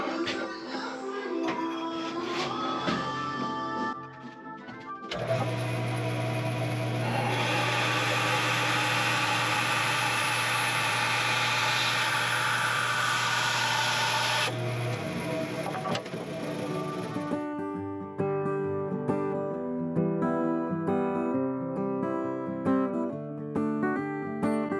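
A power saw cuts down a tall wooden heel on a parlor guitar in a luthier's shop, a steady loud whine lasting about ten seconds before the motor winds down, with music around it.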